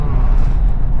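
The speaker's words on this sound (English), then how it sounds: "I could definitely hear more road noise for sure" Steady low tire rumble and road roar inside a moving Toyota Sienna SE fitted with Falken Wildpeak all-terrain tires on Black Rhino wheels, loud and continuous for a moment with no talk.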